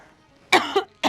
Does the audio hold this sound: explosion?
no